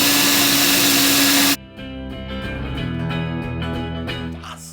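A drill bores pocket holes through a Kreg jig: a loud, steady high whine runs briefly, then cuts off abruptly, leaving quieter clunks and handling noises as the bit stops.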